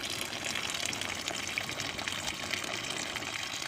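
Water pours steadily into a bucket of coco peat to soak it, a continuous close splashing gush with no talking.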